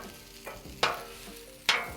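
Cilantro lime rice with fresh cilantro and squeezed lime is stirred with a utensil, making three quiet scraping strokes spaced about a second apart over a low background hiss, with no voices.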